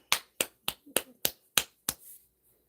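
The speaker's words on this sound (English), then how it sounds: "Here I go, fake clapping." A pair of hands claps seven times at an even pace, sharp and close, then stops.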